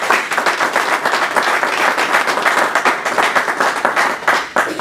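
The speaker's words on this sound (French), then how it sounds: "si on peut applaudir pour cet homme si courageux." Loud, dense applause from a crowd at a political rally launching a Katumbist movement in the diaspora, many hands clapping at once in a continuous roar with rhythmic flickers.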